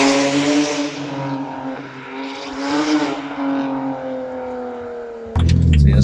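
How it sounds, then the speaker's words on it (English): A BMW 135i pulls hard on open road, heard from inside with the windows up, its engine drone holding a steady pitch and swelling slightly before an abrupt louder burst of noise near the end. "So this is the sound with those windows up, and the car pulls really strong"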